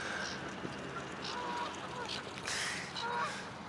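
A flock of swans approaches on an island, their honking calls scattered and overlapping at a fairly faint distance, with brief splashes and rustling in between.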